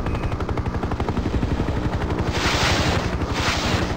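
Enemy ground gunfire rattles in rapid bursts in the helicopter game Hind 1998, steady machine-gun pulses over a throbbing rotor drone, with louder bursts toward the end.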